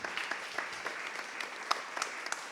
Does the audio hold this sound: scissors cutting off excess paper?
no